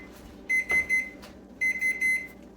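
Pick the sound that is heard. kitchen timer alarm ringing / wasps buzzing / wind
kitchen timer alarm ringing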